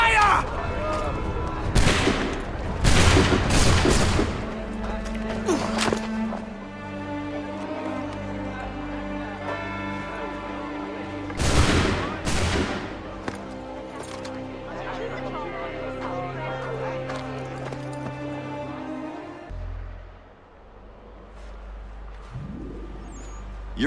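Musket volley gunfire in an Assassin's Creed III cutscene: several loud close shots crack out together, followed by another burst of shots, with shouting and crowd murmur under a sustained musical score.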